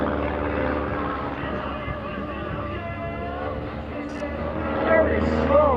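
A propeller-driven aerobatic airplane drones through its routine at an evening airshow, a steady engine hum that swells slightly toward the end, heard under someone talking over the PA.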